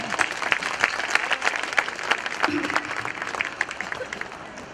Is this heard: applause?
yes